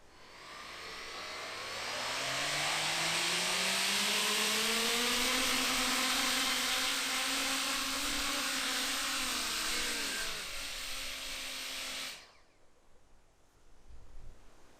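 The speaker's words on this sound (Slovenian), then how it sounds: "V redu, gremo prvi test drona s Coanda efektom." Impeller motors on a Coanda-effect drone spin up on a first test, a loud whining roar whose pitch climbs and holds for about ten seconds before cutting off abruptly, leaving quiet room noise.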